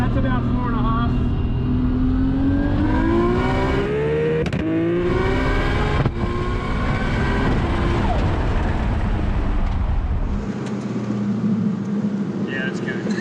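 Nissan GT-R fitted with a Garrett G35-1050 single turbo pulls hard on a dyno, engine note rising steadily in pitch as it revs up, loud and close, then dropping off near the end; people talk over it.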